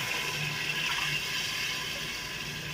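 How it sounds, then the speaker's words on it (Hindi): Water poured into rice for mutton kabsa, a continuous gushing, splashing pour with a steady hiss, close and fairly loud throughout, no speech. "मैंने 3 कप चावल लिए थे, इसमें 7 कप पानी डालना, 1 कप ज़्यादा डालना"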